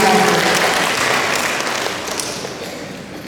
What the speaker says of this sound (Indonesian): Boleh kita berikan tepuk tangan Bapak Ibu?